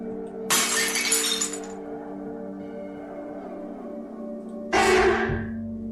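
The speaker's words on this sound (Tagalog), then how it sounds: "Biglang nahulog ang baso na kanyang hawak-hawak." A drinking glass drops and shatters with a bright crash, followed by a low hum and a second shattering burst a few seconds later in a kitchen where dishes are being washed.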